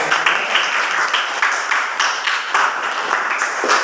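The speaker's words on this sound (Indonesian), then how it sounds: "Tepuk tangan untuk teman kalian sudah menjawab." Students in a classroom clap for classmates who answered a question, a steady patter of many hands at moderate loudness that continues evenly throughout.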